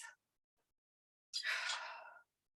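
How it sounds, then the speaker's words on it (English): A big, deep breath drawn in during a strength workout of loaded compound moves, heard as a brief faint intake followed by a longer, strong rushing breath that lasts nearly a second, close and alone. "Take a big breath."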